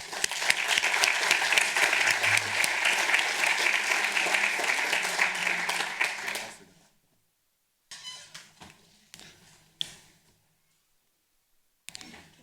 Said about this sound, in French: Et je vous demande de l'applaudir pour...